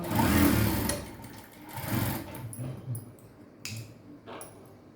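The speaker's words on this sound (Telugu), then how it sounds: "మళ్ళీ ఒక హాఫ్ ఇంచ్ గ్యాప్ పెట్టి ఇంకో స్టిచ్ అన్నది వేయండి" A sewing machine stitches the seam of a princess-cut blouse in short, rattling bursts: a loud run at first, then several briefer spurts of needle chatter with gaps between them.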